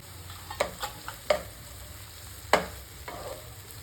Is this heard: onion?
yes